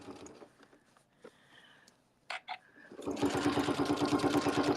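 A sewing machine runs a steady, fast whirring stitch along the edge of a fabric panel bag, about an eighth of an inch in. Faint handling noises and a couple of short mechanical clicks come before the motor starts.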